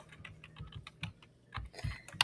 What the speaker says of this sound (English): We're just typing in the cell here